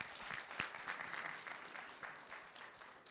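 An audience at a sales talk applauds, a dense, fairly faint patter of many hands clapping continuously from start to end.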